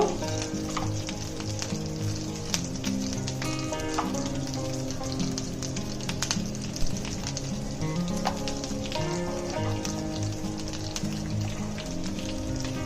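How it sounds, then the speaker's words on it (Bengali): Ground spice paste fries in oil in a pan for a fish curry, a loud, dense, steady sizzle and crackle that runs throughout, close up, with no voices over it. "কিছুক্ষণের জন্য একটু ভেজে নেব সবগুলো বাটা মশলাকে একসাথে"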